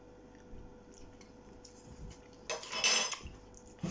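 A metal spoon clinks sharply against dishes in a kitchen while cinnamon rolls are made, a short bright rattle of a few knocks in the middle of a quiet room.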